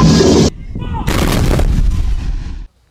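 A 155mm wheeled howitzer fires a live round on full charge; a heavy, loud boom hits about a second in, follows an earlier burst of noise, and rolls on with a deep rumble before cutting off abruptly.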